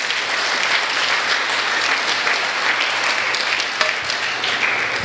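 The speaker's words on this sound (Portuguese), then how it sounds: "Aplauda o Senhor Jesus." A church congregation applauds during a sermon, producing a dense, loud, steady wash of many hands clapping at once with no voices over it.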